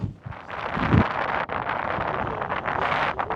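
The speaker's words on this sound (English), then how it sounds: "The wind is actually kind of pushing us from behind, so it is helping us go up." Strong wind buffeting the microphone during a steep summit climb in Antarctica, a continuous loud roar with gusty surges and rumbling low thumps.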